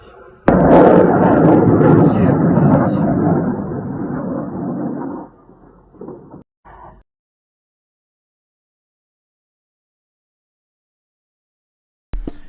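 A loud, rumbling blast at an airfield near Kursk during the Ukraine war booms and roars for several seconds, then fades, followed by a few faint pops and long silence, with a brief burst at the end.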